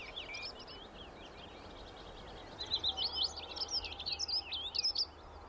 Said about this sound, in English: This is a dunnock.